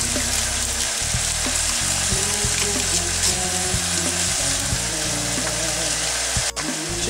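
Fish pieces go into a pot of unsalted broth with a sprig of thyme and bay leaf, producing steady sizzling and bubbling with scattered clinks and stirring noises, close up.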